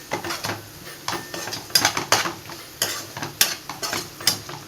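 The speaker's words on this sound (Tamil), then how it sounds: "மஞ்சள் தூள் போட்டு நல்லா ஒரு பெரட்டணும்" Vegetables coated with turmeric powder get stirred and scraped in a frying pan of oil, giving repeated close metallic scrapes and clatters over a faint sizzle.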